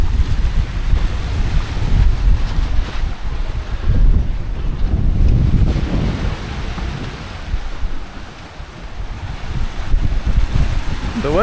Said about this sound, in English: The waves actually calmed down since the morning.